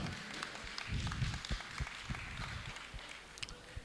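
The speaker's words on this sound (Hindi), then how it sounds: "उन सब के लिए एक बार पूरा सदन जोरदार तालियों के साथ अभिनंदन।" An audience at a Jain temple chariot procession festival in Pallavpuram, Meerut, claps in a fairly faint, scattered burst of applause, with individual hand claps audible through the room.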